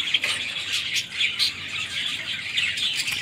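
Male Java sparrows chirping in an aviary setup, a dense run of high, bright tweets and calls repeating steadily throughout, close and fairly loud with no talk.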